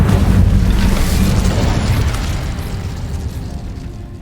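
Casting the Incendio fire spell in Hogwarts Legacy produces a loud, whooshing, booming burst that starts at full strength and then slowly fades over several seconds into a low rumble.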